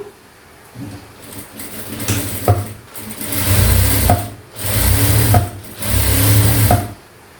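A sewing machine stitches along the folded edge of a blouse in several steady bursts, each a couple of seconds long, with short pauses where the fabric is adjusted. The machine sounds close and fairly loud, with no talking.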